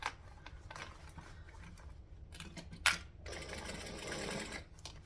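A sewing machine runs in short bursts of stitching and back stitching, a quiet rapid whir broken by pauses and a sharp click, heard close with no talking.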